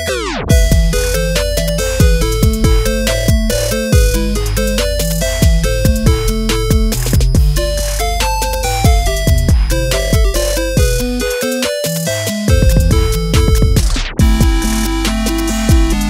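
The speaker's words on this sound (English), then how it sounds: "Download now and enjoy this as your ringtone." Tetris theme reworked as a trap remix ringtone: dense looping synth melody over heavy booming bass and crisp beats, loud and continuous with a brief drop near the end before the tune restarts.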